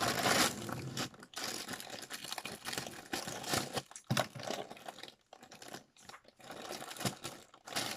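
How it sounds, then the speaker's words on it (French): A parcel package is opened at home, with bursts of crinkling plastic and tearing wrap in irregular close handling noises separated by short pauses, and no talk. "On ouvre le colis."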